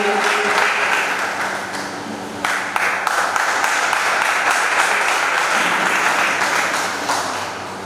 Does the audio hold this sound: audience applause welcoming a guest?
yes